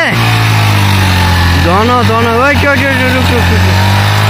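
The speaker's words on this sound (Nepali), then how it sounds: "हो मिस फायर हान्दै गयो" A motorcycle engine running loud and steady while the bike is pulled out of mud in the rain, with uneven revs and a sputtering misfire, voices talking over it.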